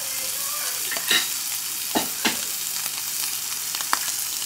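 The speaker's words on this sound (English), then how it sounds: "You can hear that nice sizzle" Sausage and mushrooms sizzle steadily in a frying pan while eggs are prepared for an omelette, with a few clinks and stirring scrapes popping up over the constant hiss, no talking.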